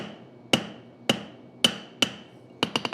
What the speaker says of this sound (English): So I'm using the round side of my hammer right now because I'm trying to pull this out a little bit more.